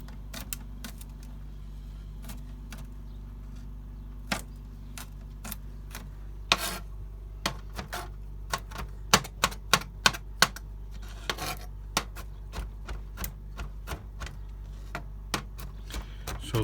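A knife minces garlic cloves on a cutting board with sharp, irregular taps, sparse at first and then quicker and louder in clustered bursts, over a quiet low hum; no one talks.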